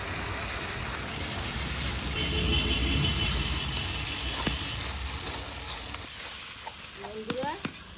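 Chili paste hits a pan of frying egg masala with a steady, close sizzle, followed by a few light scraping stirs near the end.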